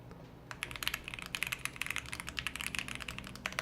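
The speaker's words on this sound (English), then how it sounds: "So as soon as I start typing it" Rapid, steady typing on a computer keyboard during a typing race, dense clacking keystrokes starting after a brief pause and continuing close and fairly loud with no talk.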